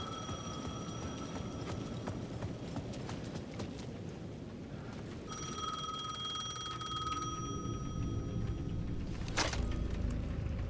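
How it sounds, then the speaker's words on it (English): A payphone rings at the edge of a plaza in the video game Alan Wake 2, its bell tones repeating over a dense, steady ambient bed, with a louder burst near the end. "The payphone at the edge of the plaza was ringing again."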